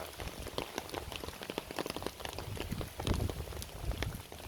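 Heavy rain pounds down on a hard surface along a bypass road, a dense, steady patter of countless drops with occasional louder splats close by.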